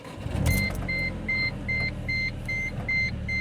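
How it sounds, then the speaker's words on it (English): A manual Mercedes C230 Kompressor W203 is started up, with a brief burst of cranking and engine catch, then a steady idle under a regularly repeating electronic chime. "we'll go ahead and start it."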